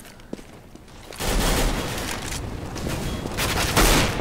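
Counter-Strike gunfire on de_cache during a competitive match, bursts of rapid shots that start abruptly and stay loud, with a sharper spike near the end.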